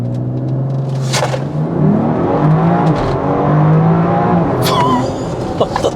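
A BMW X3M Competition launches on a timed acceleration run, its engine revving hard and rising in pitch through several gear changes, loud and close from inside the cabin, with brief tire and wind noise.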